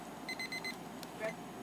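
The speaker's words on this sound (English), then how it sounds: "When the timer rings" A classroom timer rings with four quick, evenly spaced electronic beeps, followed by a brief faint chirp against a low room hum.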